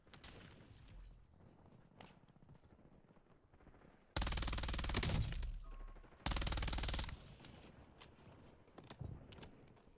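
Gunfire in a Call of Duty match: rapid automatic bursts crackle close and loud in two dense stretches, with scattered lighter shots and mechanical clatter in between.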